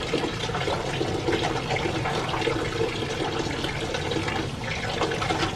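Water leaf greens washed under a heavy, steady stream of water, a loud continuous splashing and gushing that fills the whole stretch, close and unbroken, with no voices.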